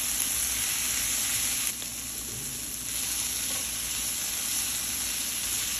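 Bell peppers frying in a pan for high-protein egg bowls give a steady, close hiss of sizzling oil that runs the whole time, with a brief dip partway through as the pan is stirred.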